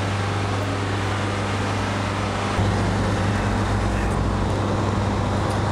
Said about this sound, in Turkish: yüksek devirlerde gaz vereceğim